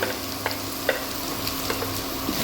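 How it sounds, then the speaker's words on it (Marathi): Finely chopped onion added to hot oil for radish bhaji sizzles in a pan, a constant frying hiss broken by a few sharp spoon clicks and scrapes, close by with no talking. "हा एकच कांदा आपण घेतला आहे बारीक चिरून तो ॲड करूया"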